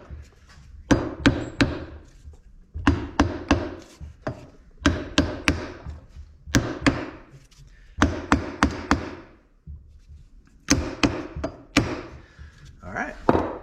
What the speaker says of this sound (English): have a plastic hammer or something like that will work well here.